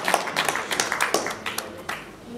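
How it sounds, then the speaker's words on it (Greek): An audience at a Greek association's event applauding the mayor with scattered, uneven clapping, fairly close, mixed with murmuring voices. "Το θερμό χειροκρότημα μας"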